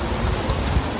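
Rain falls in a brief, dense wash of steady broadband patter, fairly loud and unbroken, with no voices over it.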